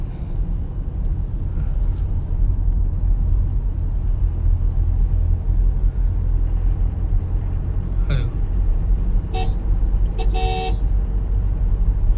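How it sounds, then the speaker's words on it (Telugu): An Innova Crysta's horn sounds twice, in a short blast and then a longer one, loud over the steady low rumble of the moving car's cabin, as the driver alerts a drowsy truck driver on the highway. "నేను వాళ్ళ దగ్గరికి వెళ్ళిన తర్వాత ఫుల్గా హార్న్ కొట్టి వాళ్ళని అయితే అలర్ట్ చేశాను"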